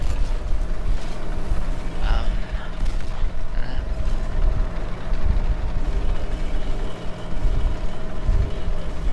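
Getting into a tank in the video game Halo MCC gives mechanical creaks and clunks over a low, rumbling engine-like bed. The sounds are fairly loud and continuous throughout.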